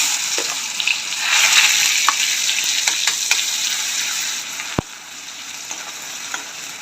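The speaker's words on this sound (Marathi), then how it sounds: "तेल गरम झालेलं आहे आपण वाटण टाकून घेऊया" Ground spice paste frying in hot oil in a hot kadhai, for cluster bean bhaji: a loud, steady sizzle with crackling spits that swells early, then settles, broken near the end by one sharp utensil tap.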